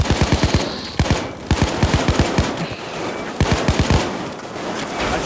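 Bursts of automatic gunfire in the heist shooter Payday 2, several rapid volleys of sharp, loud shots separated by brief pauses over a steady background of game noise.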